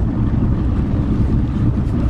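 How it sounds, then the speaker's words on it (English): Boats pass on the water at Soddy Creek, giving a steady low rumble of wake and engine noise. Heavy wind buffets the microphone and masks much of it. No one speaks. "That was the other boats, Chris."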